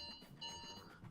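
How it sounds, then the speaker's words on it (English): A food-ready alarm beeping in a home during a college football video game session, a steady electronic tone repeating over a quiet background. "Got the get food alarm going off."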